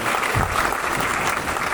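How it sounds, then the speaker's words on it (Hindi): Audience applause at a seminar, a brief, steady burst of many hands clapping together from a crowd. "तो इस सिस्टम के लिए एक बार तालियां बजनी चाहिए।"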